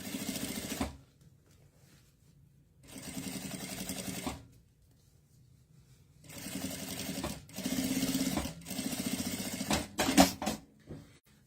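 Stitching a fabric pouch, a sewing machine runs in three separate whirring bursts with quiet gaps between them, then a brief clatter of handling near the end, all close and clear without talk.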